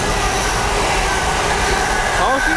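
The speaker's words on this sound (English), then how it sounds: "we got a container train now." Loud rumbling rush of a container freight train passing close by near Needham Market Station, steady wheel noise throughout with a brief squeal near the end.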